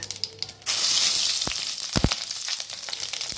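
Chorchori hitting hot mustard oil in a pan, a sudden loud sizzle that starts abruptly and keeps frying steadily, with a few clinks of utensils.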